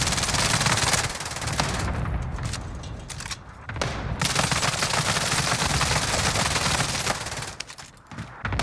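Sustained automatic M16 fire in Call of Duty Cold War Warzone, dense bursts of rapid loud gunshots running nearly continuously, with brief gaps and a short lull near the end.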